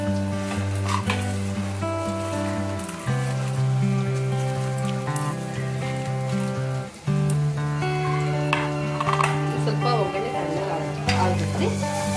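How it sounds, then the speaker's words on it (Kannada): Water is sprinkled into a hot pan of tempering for masala avalakki, setting off a loud, close, bubbling sizzle that holds steady, then drops briefly twice and surges back, with scattered spattering crackles. "ನೋಡಿರಿ ನೀರು ಚಿಮ್ಮಿಸ್ತೀನಿ"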